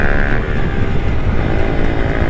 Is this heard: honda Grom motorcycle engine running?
yes